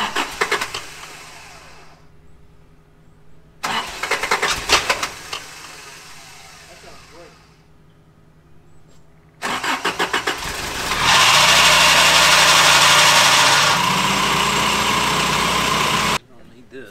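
An engine cranks in short bursts a couple of times, then catches and roars up loudly before settling into a steady, close idle, on its first start after a fuel filter change.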